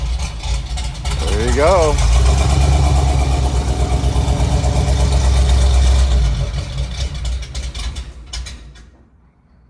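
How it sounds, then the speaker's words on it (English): A 1979 Jeep CJ-5 engine cranks and catches, settling into a loud, rough idle that later fades, with a brief spoken remark over the running motor. "go ahead and start it up."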